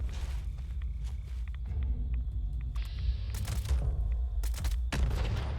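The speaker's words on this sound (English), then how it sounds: "it took 4 to 5 shots against the regular Scorched" Legendary assault rifle in the Fallout 76 video game, firing short bursts of sharp shots in uneven clusters over a low rumbling game background, with no talk.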